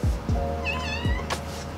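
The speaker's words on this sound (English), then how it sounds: "Or you can talk to my cat Lumi." A pet cat meows indoors, a couple of close drawn-out calls with soft low thumps around them, no speech.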